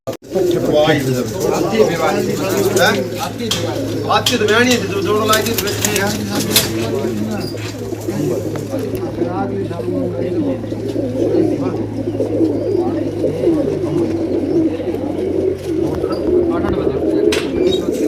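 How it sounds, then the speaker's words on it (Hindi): A flock of pigeons coos continuously, layered throaty calls overlapping close by, with a low steady hum underneath. "अपने कबूतर है सारे।"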